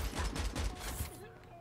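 Rapid automatic gunfire in Call of Duty Mobile, with an HVK-30 rifle in play, a burst of repeated shots ringing for about a second before trailing off into quieter mechanical clicks.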